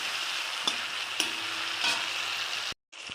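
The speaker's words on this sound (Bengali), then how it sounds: "টমেটো আর পেঁয়াজ আর এটা কষিয়ে আমি একটু গলিয়ে নেব।" Tomato and onion stir-fried in a pan, sizzling steadily at close range with a few scraping stirs of the spatula, until the sound cuts out briefly near the end.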